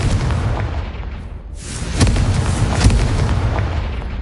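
Confringo fire spell explosion in Hogwarts Legacy on PS5, a loud roaring blast with a dense rumbling wash, swelling again with sharper booming bursts near the end, close and without talk.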